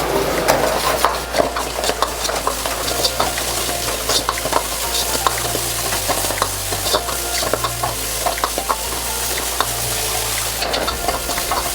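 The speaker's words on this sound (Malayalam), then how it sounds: "ഇതെല്ലാം സോട്ട് ആയിട്ടുണ്ട്." Gobi manchurian ingredients with tomato sauce and vinegar sauté in a hot pan, giving a dense, constant sizzle broken by quick scraping stirs and utensil clatter, close and loud, with a low steady hum underneath.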